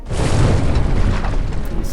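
A deep, booming explosion marks a ship being hit and sunk in an online Battleship mobile game, a single muffled blast that swells and rumbles for about two seconds.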